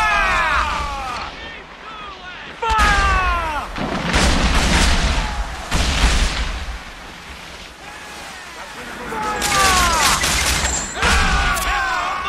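Ship cannons fire in Assassin's Creed 4 Black Flag, several heavy booms spaced a few seconds apart, with whistling shots, a wash of sea surf and voices heard between blasts.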